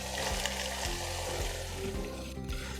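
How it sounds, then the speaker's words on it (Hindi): Keema sizzles loudly and steadily in a hot pan as onions go in, with faint low thuds from stirring and no talk over it. "मैं इसमें प्याज ऐड करूँगी।"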